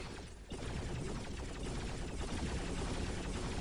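Burst cannon turrets in the Dawn of War: Soulstorm strategy game fire in a dense, continuous rattle of rapid shots, steady and loud throughout with battle noise mixed in.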